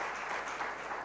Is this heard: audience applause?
yes